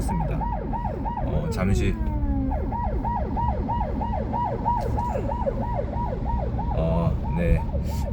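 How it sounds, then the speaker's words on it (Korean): An ambulance siren wails in a steady rising-and-falling pattern as it passes a car being driven, loud and continuous over road noise, with a brief spoken word partway through. "앰뷸런스가 지나가가지고 잠시 비켜줬습니다"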